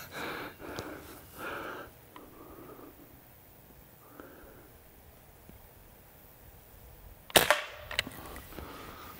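Benjamin Sheridan Blue Streak .20 caliber air rifle fired outdoors, a single sharp, loud crack followed by a short echoing tail, with quieter handling noises and faint breathing before it.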